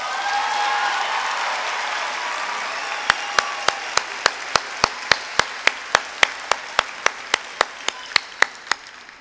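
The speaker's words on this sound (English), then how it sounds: "You may now applaud all of these outstanding students." Crowd at a high school graduation ceremony bursts into broad applause that fades, then a single pair of hands claps in a steady rhythm near the microphone, about twenty sharp claps.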